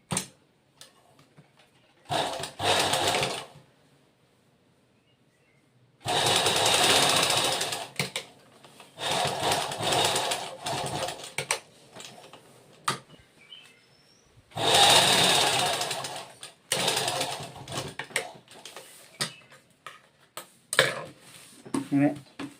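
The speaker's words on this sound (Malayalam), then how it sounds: "ഒരുപോലെ പിടിച്ച് നമ്മൾ തയ്ക്കുക." A sewing machine stitches fabric in several loud, rapid whirring bursts of varying length, separated by quiet pauses as the work is repositioned.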